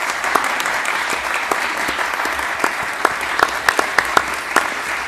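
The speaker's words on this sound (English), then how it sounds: "Give a big round of applause." A crowd applauds the First Lady: steady, loud, sustained clapping filling the room, with a few sharper individual claps standing out near the end.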